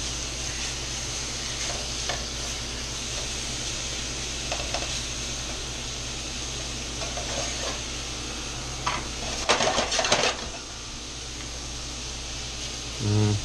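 Bacon sizzling and frying in a pan as it is stirred and pushed around, a steady close crackle with scraping utensil knocks near the end over a low background hum.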